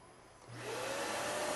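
An Onefinity Elite CNC router's spindle, driven by a VFD, spins up to 15,000 RPM as a shop vacuum switches on, building from quiet into a loud, steady, close roar of motor whine and rushing air.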